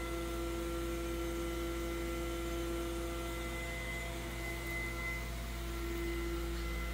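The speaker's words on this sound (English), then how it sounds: "Once vacuum has been pulled on the chamber, we can go ahead and remove the plug and then start tumbling." A PROMAX TMC-500 vacuum tumbler runs with a steady, quiet motor hum and faint mechanical drone, unchanging throughout with no speech.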